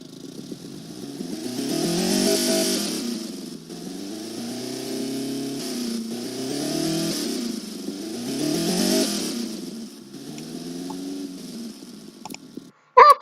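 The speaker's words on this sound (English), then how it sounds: "it sounds like an inline 4" Inline-four car engine in a modern hot hatch built in Automation and driven in BeamNG.drive, revving repeatedly in rising and falling sweeps, loud and close, with a sharp burst at the very end.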